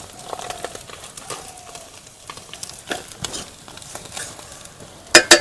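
Bata fish pieces lifted from sizzling oil during frying, with faint crackling and scattered clinks of a utensil, then two sharp metallic clatters near the end.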